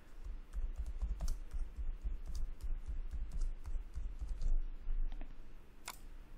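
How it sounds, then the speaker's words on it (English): An email address is typed on a computer keyboard, a close, fairly quiet patter of irregular clicky keystrokes in a quick run with a few brief pauses and a sharper final tap. "this time put the email address of Chris and click on connect"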